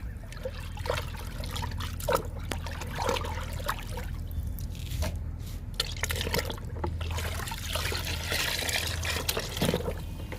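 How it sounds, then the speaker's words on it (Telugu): Liquid sloshing and trickling as paste is mixed into water to make a pesticide spray for plants, a steady close wet churning with small pours and drips and no talking. "ఇప్పుడు కలుపుకుందాము పేస్ట్ని"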